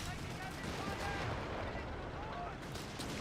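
A volley of gunfire in the Company of Heroes 3 strategy game, with dense overlapping rifle and artillery cracks under continuous battle noise for about three seconds.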